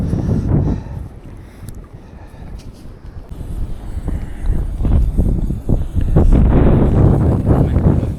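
Wind gusts buffet the microphone outdoors on a Lapland fishing trip, a rough, rumbling rush that eases in the middle and then swells louder and more turbulent toward the end.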